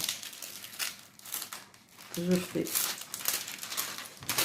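Crinkly rustling and crackling of adhesive tape being peeled and handled close up, in uneven bursts with brief pauses.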